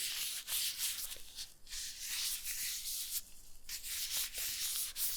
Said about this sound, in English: So I'm just going to take this alcohol wipe here.